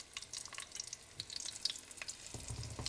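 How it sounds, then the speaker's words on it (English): A few pieces of steak frying in hot oil in a well-worn, slightly uneven skillet, giving a steady faint crackle dotted with small spitting pops that swells a little toward the end, with no voices. "you only want to cook a few pieces of this at a time because you want your oil to maintain that heat"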